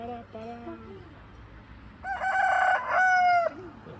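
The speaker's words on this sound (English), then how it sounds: "it's a cockerel" A rooster on Sumba island, Indonesia, crows loudly nearby, a long drawn-out call in two strong bursts, preceded by softer clucking from other fowl.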